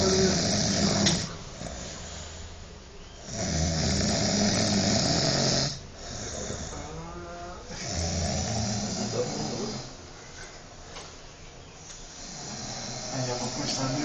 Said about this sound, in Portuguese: Você tá roncando